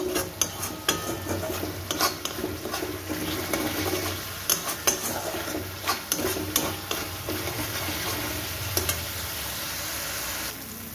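Spice paste for Kashmiri dum aloo sautéing in a hot pan. The oil crackles and sizzles steadily while a spoon scrapes and knocks against the pan in irregular strokes, and the sound fades out near the end.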